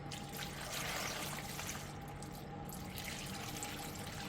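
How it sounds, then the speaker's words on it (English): Tap water pours steadily into a water filter, a continuous splashing trickle heard up close over a faint background hum. "And then you fill it with tap water."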